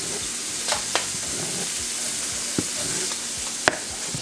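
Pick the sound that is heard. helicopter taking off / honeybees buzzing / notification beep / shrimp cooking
shrimp cooking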